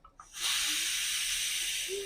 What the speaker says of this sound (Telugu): ఇలా పెట్టుకుంటే ఆవిరంతా వెళ్ళిపోద్ది,